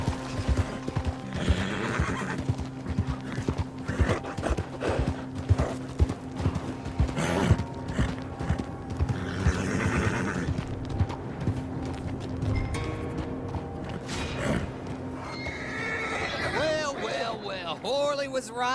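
In Red Dead Online, a horse whinnies and neighs while hooves clip-clop steadily, mixed with voices talking throughout and a loud, close whinny rising near the end.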